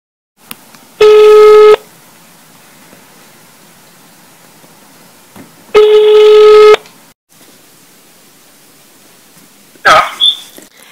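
Telephone line tones on a call, two long steady electronic beeps separated by a few seconds of quiet line hiss, followed by a brief click-like burst, loud and close.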